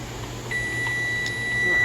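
A microwave oven hums steadily as its timer counts down, with a thin, sustained electronic tone sounding over the running noise, close and fairly loud.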